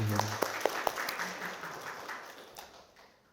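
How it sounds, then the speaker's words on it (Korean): A church congregation in Vancouver claps briefly for a visitor: a few distinct claps, then a short scattered patter that quickly fades away. "우리 큰 박수로 환영하겠습니다"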